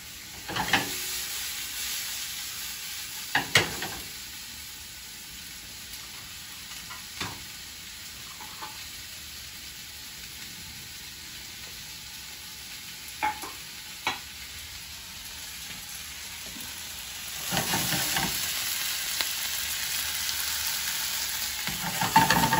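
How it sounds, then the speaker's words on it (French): Tomatoes fry with a steady hiss in a pan at home, broken by occasional sharp scrapes and taps of stirring, and the sizzle swells louder toward the end. "Et maintenant, je peux ajouter les tomates."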